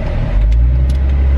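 A car drives to the airport, heard from inside as a loud, steady low engine and road rumble that fills the whole moment, with no voices.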